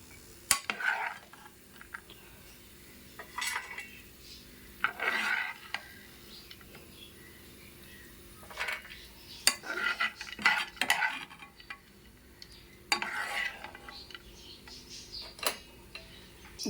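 Ingredients for semiya kesari, a sweet vermicelli dish, are fried together in a pan, with a spoon scraping and stirring against the metal in irregular bursts over a quiet sizzle.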